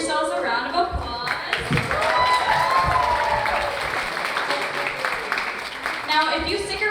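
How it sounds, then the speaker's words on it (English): Audience applause at a Sangeet wedding celebration: sustained, dense clapping from a crowd fills the whole stretch, loud and steady with a few brief swells, and voices are mixed in beneath it. "Give yourselves a round of applause."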